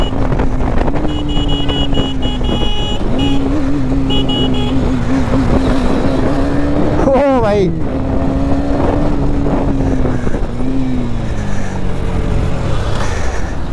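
Kawasaki H2R superbike ridden hard, its engine droning steadily and rising and falling in pitch throughout, with a brief sharp burst midway and someone speaking over the loud, close engine noise.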